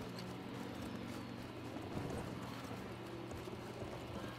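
Rapid hoofbeats of a galloping horse in the video game Battlefield 1 over a steady background din of game noise, fairly close and continuous without pause.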